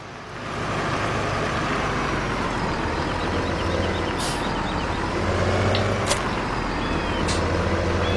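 Tractor engine in a farming video game on the Goldcrest Valley map, a steady loud diesel rumble that holds for several seconds, with brief hissing bursts of air brakes over it and no talk.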